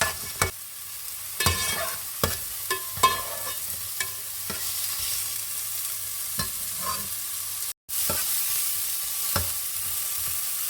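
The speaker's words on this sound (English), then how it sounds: "The onions are browning" Onions and soya mince frying in a pan, a constant close sizzle broken by intermittent stirring scrapes and taps, with one brief dropout near the end and no voices.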